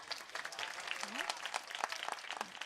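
An audience claps at a devotional kirtan, with a quick burst of scattered, fairly soft hand claps and a faint voice mixed in.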